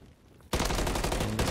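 In the Call of Duty Modern Warfare III video game, a sudden loud burst of rapid automatic gunfire cuts in after a quiet moment and continues as a dense fusillade.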